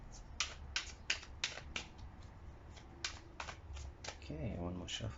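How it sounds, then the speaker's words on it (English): A deck of tarot cards is shuffled close by, a run of sharp riffling snaps and flutters in quick bursts, followed by a brief stretch of quiet talk at the end. "one more shuffle"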